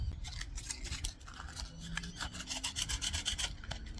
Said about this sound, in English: You're just slowly rolling it as you sand it.